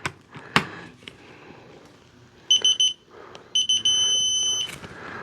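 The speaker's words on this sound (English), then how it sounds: "it'll give multiple beeps as you're getting close, and then when you get solid tone" Electronic beeping from a torque wrench reaching its torque spec: a few short clustered beeps, then a longer steady tone, with some clicking and handling noise before.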